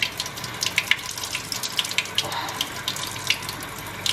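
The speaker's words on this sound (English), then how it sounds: "And I just run it under the cold tap like this and wring it out like so." Cold water runs steadily from a kitchen tap, splashing and trickling close by with small irregular spatters throughout.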